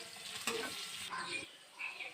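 Potatoes and nigella seeds frying in oil, a soft, fairly quiet sizzle with brief stirring bursts, fading toward the end.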